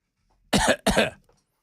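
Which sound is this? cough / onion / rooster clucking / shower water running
cough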